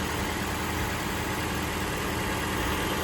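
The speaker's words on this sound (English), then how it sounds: "As you can hear, I do have the car running." A Toyota RAV4 Hybrid GX idles in its engine bay with a steady, even hum and broadband whir, constant in level with no voices.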